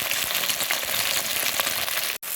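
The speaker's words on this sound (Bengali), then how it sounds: "ভেন্ডিটা ভাজা করে নিচ্ছি," Okra (bhindi) fries in oil in a pan at home, giving a close, steady crackling sizzle that briefly cuts out near the end.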